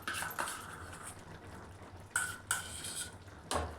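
A spoon scrapes and clinks against a pan while homemade milk cream is stirred into paneer matar masala gravy, a few distinct metallic knocks over a soft, faint background.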